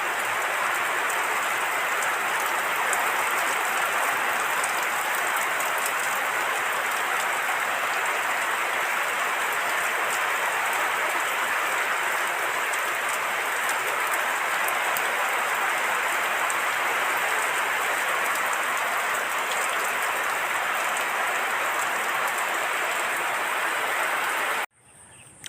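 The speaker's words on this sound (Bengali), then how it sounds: "আল্লাহর রহমতের বৃষ্টি দান করছেন" Steady rain pours down over rice paddy fields being prepared for planting, a dense unbroken hiss that stays loud and even throughout with no voices, cutting off abruptly just before the end.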